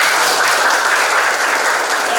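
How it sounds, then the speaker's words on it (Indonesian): Students in a classroom break into steady group applause, a thick, uniform rush of clapping that holds at a loud, even level throughout. "Tepuk tangan."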